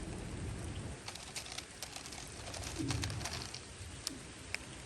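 Steady light rain falls outdoors on a rainy morning, a soft continuous hiss with scattered drop ticks, while pigeons or doves coo faintly now and then in the background.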